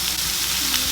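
Food sizzling steadily in a pan as it is stirred, a loud continuous hiss with no break through the short moment.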